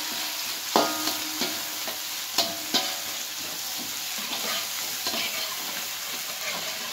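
Ingredients for a spicy tauco pindang fish seasoning sauté in a pan until wilted, giving a steady close sizzle and frying hiss broken by a few sharp clacks of stirring utensils against the pan, with no talking.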